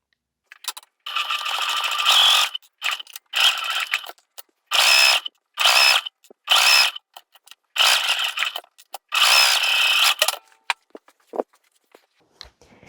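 A sewing machine stitching the sides of a fabric cubic makeup and travel bag, running in several short bursts of rapid mechanical whirring separated by brief pauses, close and fairly loud, with no talking.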